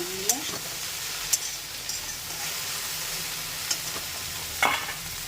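Okra (bhindi) frying in hot oil, a soft continuous sizzle near the pan punctuated by a few sharp clinks and scrapes of a spatula stirring the pieces, with no one talking.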